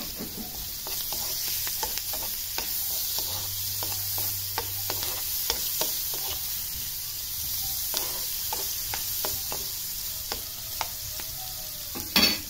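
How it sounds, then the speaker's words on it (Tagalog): Butter melting and sizzling in a pan, a steady close frying hiss broken by frequent sharp crackles and pops, with a few scraping stir sounds and a brief knock at the end. "Butter. Inuna na natin yung butter."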